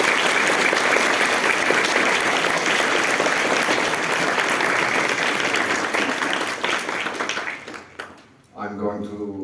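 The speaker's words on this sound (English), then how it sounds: "give us all a round of applause for our guests" Dense, loud audience applause for guests at a fan convention panel, sustained for about eight seconds before it fades out and a voice starts speaking.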